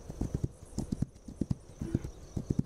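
In the video game This Land is My Land, a horse's hooves clip-clop in a quick, steady rhythm of soft thuds at moderate distance, with no talking.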